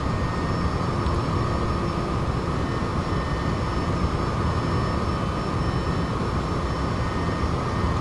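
A freeware helicopter in the X-Plane 11 flight simulator gives off a constant, dense engine and rotor drone, steady and fairly loud throughout, with no talk.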